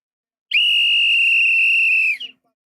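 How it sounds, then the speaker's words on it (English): A referee's whistle ends the first half of a Spain vs Portugal World Cup round-of-16 football match, one long, loud, steady shrill blast of about a second and a half that cuts off sharply, with no talk over it. "we're probably going to get the whistle right now"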